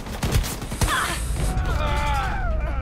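Shotgun blasts in the online PvP shooter Shatterline, with a couple of heavy booming shots early followed by a scattered crackle of gunfire and game effects, while a player talks over the action.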